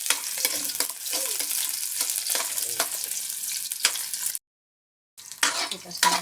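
Garlic fries in a pan with a bright sizzle and intermittent stirring scrapes, broken by a brief full silence before the crackle resumes, and a voice speaks faintly at times.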